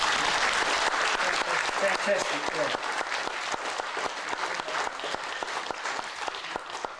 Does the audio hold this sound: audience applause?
yes